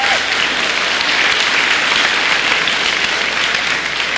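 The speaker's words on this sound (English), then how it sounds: "Big round of applause." Audience applause at the Poland Regional High School graduation, a dense, loud, continuous roar of many hands clapping at an even level throughout.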